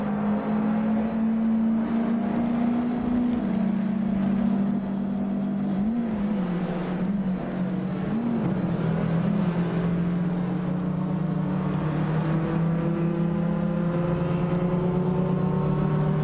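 Racing cars in a nonstop race, a steady sustained engine drone with shifting pitch as cars battle closely for position, loud and continuous with no talk.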